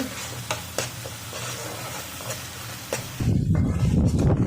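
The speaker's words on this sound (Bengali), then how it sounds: "এই মশলার উপরে তেল ছিটছিটা ভাব উঠে যাবে তখনই ইলিশ মাছ ছেড়ে দিতে হবে" Mustard spice paste for hilsa curry frying in hot oil, a steady close spattering sizzle with a few sharp pops, swelling into a louder, denser hiss near the end.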